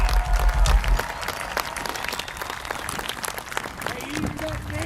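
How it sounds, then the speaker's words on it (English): An audience claps and cheers at a band concert on the Fort Huachuca army base, with broad, rolling applause continuing under a voice speaking over the crowd. "Give yourselves a big round of applause."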